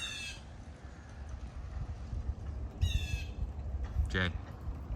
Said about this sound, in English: Jay, Blue Jay.